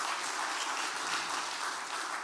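A church congregation applauding after the pastor's call to praise God, a fairly faint, steady wash of clapping throughout with no talk over it.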